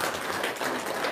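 A brief burst of audience applause, many hands clapping in a close, dense patter that holds steady for about a second with no voices over it.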